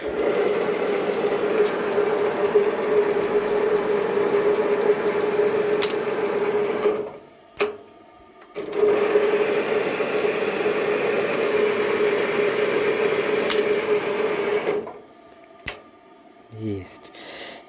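A TV-4 metal lathe runs with a steady whining hum, stopping briefly about halfway through before spinning back up, then winding down near the end as the speed is changed.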